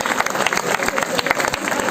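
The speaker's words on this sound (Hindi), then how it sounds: "भाई एक बार जोरदार तालियां पूरा सदन में, इतने अच्छे शेर," Dense applause from an audience in a hall after a recited poetry couplet, steady clapping filling the short moment, loud and close, with some crowd voices mixed in.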